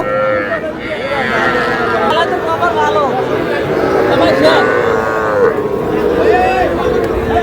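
Young four-month-old bull calves at a cattle market in Madaripur, lowing and bleating in repeated drawn-out calls close by, over a constant crowd of people talking and haggling.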